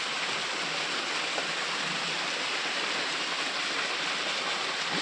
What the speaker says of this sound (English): And you got the beautiful waterfall right there.